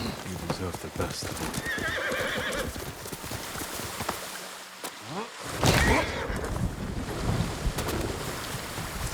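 Hooves clip-clop in a quick gallop while a horse neighs loudly in Ghost of Tsushima, with wind and rumbling game ambience around it and brief speech.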